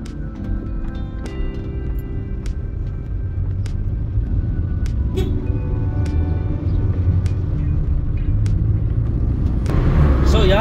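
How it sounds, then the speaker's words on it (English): A Toyota Etios 1.5 VVT with newly renewed struts drives on a test drive, heard from inside as a steady low road rumble with faint occasional clicks and knocks. "first thing this morning, taking it for a test drive"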